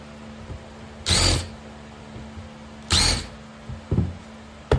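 A drill bores holes in treated wood pieces for an outdoor porch chair, two short whirring bursts about two seconds apart followed by a brief weaker one, close and fairly loud against a quiet background.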